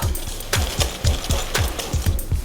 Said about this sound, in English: Now we're just going to give that a little bit of a whisk up.